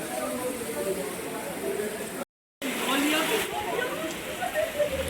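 Steady, dense hiss of rain falling, broken by a brief dropout of silence partway through before the downpour resumes.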